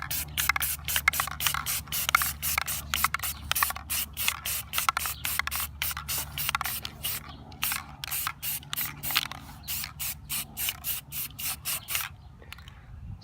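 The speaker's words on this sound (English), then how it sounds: "So I'm going to take the black, shake it up, a little test spray, and time for my favorite part, first coat of black." Black spray paint hisses onto car rims in rapid short bursts, a steady run of close, loud sprays with brief gaps and no talk.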